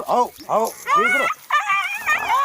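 Dog barking and yipping in short, loud bursts, about five in a row with rising whimpering yelps, close by and dominating.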